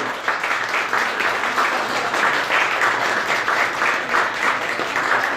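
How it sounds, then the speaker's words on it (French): Sustained applause from diners for the restaurant staff at an evening awards dinner at the Greenwich in Brussels, dense steady clapping filling the room at an even level throughout. "sous les applaudissements pour le personnel qui s'est donné beaucoup de mal ce soir afin de nous recevoir au Greenwich"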